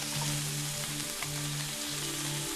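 Shrimp frying in a pan for a traditional Spanish paella with tinned seafood, giving a steady, close sizzle with faint hum beneath and no talk.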